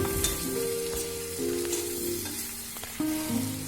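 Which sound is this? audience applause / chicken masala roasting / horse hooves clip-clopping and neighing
chicken masala roasting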